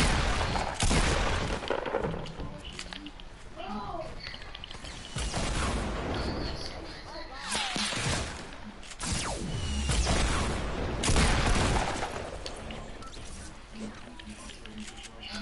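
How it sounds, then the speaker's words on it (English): Gunfire and a rocket launcher go off in a squads shooter game, with sharp cracks, bursts and booms scattered through the scene while a voice talks over them. "Oh, that's your rocket launcher, Evans."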